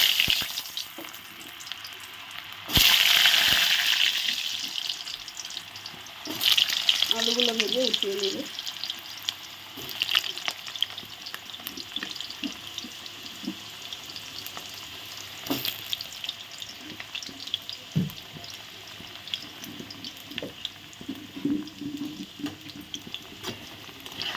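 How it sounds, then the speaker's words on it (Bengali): Potatoes frying in very hot oil give loud bursts of sizzling and spitting that settle into softer crackling, with stirring scrapes and occasional clatter, while a voice speaks briefly in the background. "তেলটা একটু বেশি গরম হয়ে গেছে তো এখন আমি প্রথমে আলুগুলো ভিজে নিচ্ছি"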